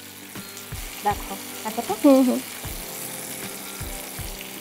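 Pieces of catla fish fry in a pan for a Bengali fish curry, giving a continuous close sizzle while a voice speaks briefly over it in the middle.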